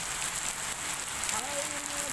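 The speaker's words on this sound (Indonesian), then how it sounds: "Bunyi hujan di atas" Steady rain falling on a mountain after a long dry season in Bondowoso, a continuous hiss of drops on surfaces, even and close, with a faint voice murmuring in the background.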